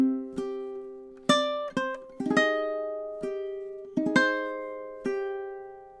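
Ukulele plucking a riff: a sequence of about ten sharp, bright notes in an uneven syncopated pattern, some in quick pairs, each decaying cleanly, close and alone without speech.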